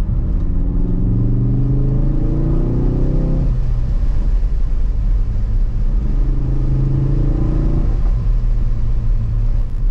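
A Mk3 Ford Focus RS engine revs up through two rising acceleration pulls, each climbing in pitch then dropping off, over a constant loud road rumble heard from inside the car.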